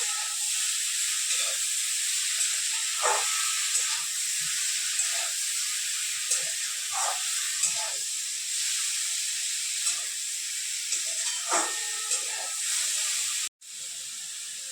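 Chilli mushrooms sauté in a pan with a constant hissing sizzle and periodic scraping stir strokes, close and steady, until the sizzle cuts out abruptly near the end and then resumes more quietly.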